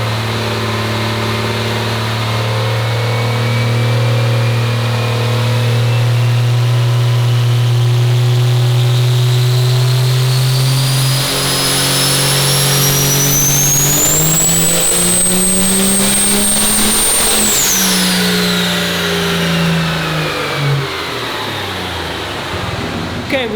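A nitrous-equipped diesel drag truck engine with an S485 turbo revs up during fuel-only runs, a loud sustained drone that climbs in pitch with a rising turbo whistle, then drops back.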